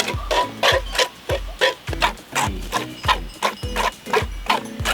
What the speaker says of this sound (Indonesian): kudanya kuda jenis apa sih Pak?